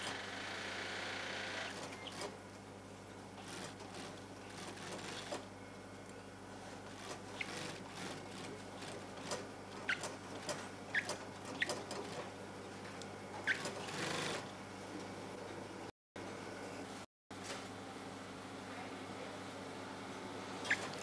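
A sewing machine stitches yellow decorations onto fabric pieces, a soft, steady mechanical whirring and chattering that runs continuously with small clicks, briefly cutting out twice near the end.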